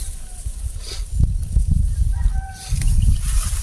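Chickens cluck and squawk nearby over a rumbling, windy background, with short bird calls scattered throughout.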